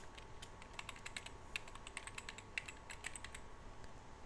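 Quick, uneven keystrokes on a computer keyboard as an email address is entered, sharp faint clicks in short bursts against a quiet background with no speech.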